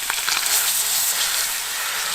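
Trout frying in a pan outdoors during a riverside catch-and-cook, with a bright continuous sizzle and a brief clatter near the start as the fish is flipped, close and moderately loud, with no talking.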